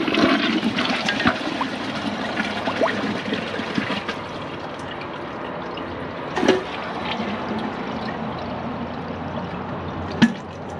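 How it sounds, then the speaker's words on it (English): A 2008 Jacuzzi Perfecta toilet flushes against a microfiber towel, giving a steady rushing, gurgling wash of water that carries on for several seconds, with a couple of sharper clunks and splashes part way through and no talk. "the Jacuzzi took two flushes"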